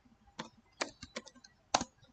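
A laptop keyboard being typed on to enter a command into CMD, with a handful of irregular, crisp key clicks at close range in a quiet room and no talking.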